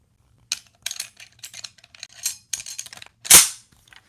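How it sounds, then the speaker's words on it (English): M1 Garand rifle firing in a video game, a run of sharp cracking shots followed by the loud metallic ping of the clip ejecting, near and crisp with no speech. "All right, we got the Garand. All right, here comes the ping, Worm."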